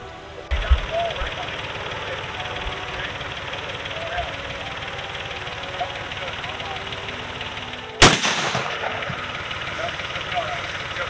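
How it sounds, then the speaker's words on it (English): A rifle shot finishing off a wounded buffalo on a cold-weather hunt cracks out loud and sharp once, after a fainter earlier bang, over steady outdoor rumble and wind. "Buffalo didn't go down with the first shot, so I'm gonna help my dad and finish it off with this one."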